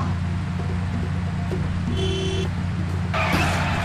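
A cartoon police car in an adventure game drives with a steady engine hum, then a tire squeal and skid rises near the end, with a brief high tone partway through; no talk.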